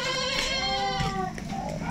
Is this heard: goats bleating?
yes